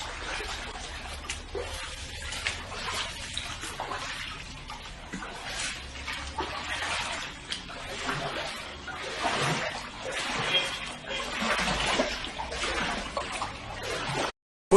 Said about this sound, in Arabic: بصوا منظر الميه، بص السيل